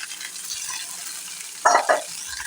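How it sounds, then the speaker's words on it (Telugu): Green chillies, curry leaves and coriander frying in a pan as a tempering give a faint steady sizzle, with two short scraping strokes of stirring near the end. "ఇప్పుడు ఇవన్నీ కూడా చక్కగా అటు ఇటు తిప్పుకుంటూ మనము ఈ పోపుని ఫ్రై చేసుకోవాలి."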